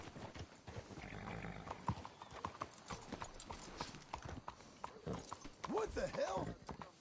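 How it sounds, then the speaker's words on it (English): Horses in Red Dead Redemption 2 clip-clop in steady hoofbeats at moderate distance, with a whinny near the end, while voices talk over them. "Let's hitch the horses up ahead"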